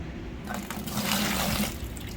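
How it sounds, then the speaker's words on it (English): Water poured out of a potted orchid and dripping away, a soft trickling splash that swells in the middle and fades, close and fairly quiet with no talking. "dump the water, let it drip while we're looking at"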